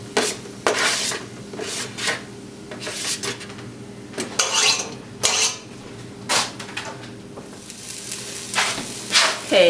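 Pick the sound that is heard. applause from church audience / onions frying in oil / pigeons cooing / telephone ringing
onions frying in oil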